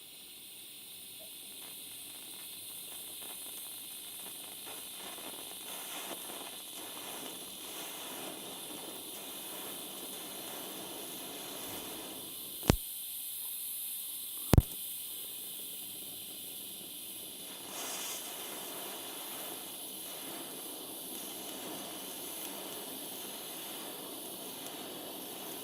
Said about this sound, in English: I can do an inside corner joint on the same coupon. Inside corner joint. Once again 5mm material on the easy weld setting.